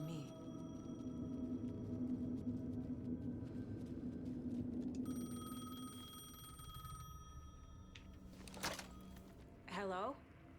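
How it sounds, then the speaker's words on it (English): A payphone rings in the video game Alan Wake 2, set in New York, with repeated electronic bell tones over a low rumbling ambience and a closer sharp ring burst near the end. "The payphone was ringing."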